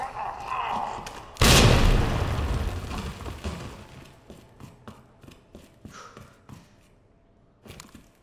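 A grenade goes off in Resident Evil 2 Remake, one sudden loud boom that rolls and fades over a few seconds, followed by scattered thuds and game noises, with someone talking faintly around it.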